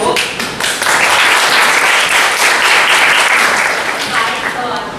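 Full room applause at a women-in-tech gathering in Singapore as a speaker is welcomed: a few scattered claps swell into loud, dense clapping that holds steady and eases slightly at the end, with a voice faintly underneath.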